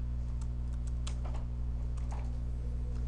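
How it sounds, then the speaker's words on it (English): Keys on a computer keyboard are tapped in a quick irregular burst to enter a single command, close and light over a steady low electrical hum, without voices. "So I just type one command"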